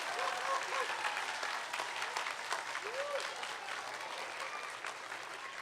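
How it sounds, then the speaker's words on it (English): Applause from an audience at an elementary school award assembly honoring the principal, a steady wash of clapping that runs throughout, with faint voices and a brief whistle-like tone audible beneath it. "Give her another round of applause."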